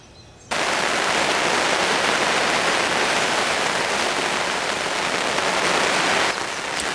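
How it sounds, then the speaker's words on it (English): A heavy spring downpour drums hard on a close surface at a carp-fishing spot. The dense, loud hiss starts abruptly, holds steady for about six seconds, then eases. "I think we've got April downpours today"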